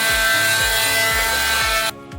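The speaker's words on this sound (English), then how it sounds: "I've been using this multi-tool to smooth out any rough edges" Inside a van, a multi-tool scrapes and peels splinters off a wood surface with a steady buzzing vibration and rhythmic rasping strokes, close and loud, stopping abruptly near the end.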